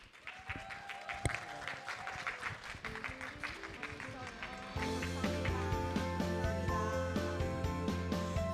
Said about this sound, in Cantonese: 再次俾多啲掌聲